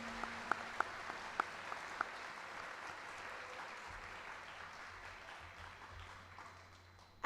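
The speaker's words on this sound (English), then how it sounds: "another round of applause" Steady audience applause for elementary school 2nd through 5th grade classes after their performance at the Seoul school complex closure ceremony, a continuous dense patter of many hands with a few sharper claps early on, moderately distant in a hall.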